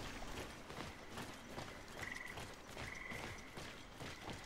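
Frogs croak in a swamp sanctuary in the video game Greedfall, a quiet rhythmic croaking chorus over faint ambient rustle and soft steps.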